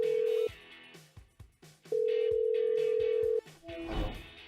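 A telephone call rings out to the next caller on a Hindi late-night call-in show: loud, steady ringback tones with a pause between them, then a brief click of connection, with no talk.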